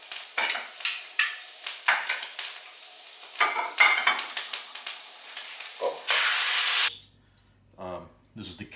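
Steak searing in a hot pan, sizzling and spattering in a rapid series of pops and crackles, then a loud sustained hiss before a sudden drop to quieter handling noises.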